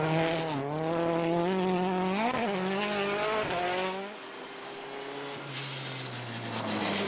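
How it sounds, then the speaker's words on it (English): A Mini rally car with a sick, misfiring engine on a snowy Swedish forest stage, its strained note rising and wavering loudly up close before dropping away to a thinner, rougher drone. "That is clearly a very sick-sounding Mini"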